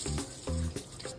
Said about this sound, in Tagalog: Buhusan natin yan ng tubig.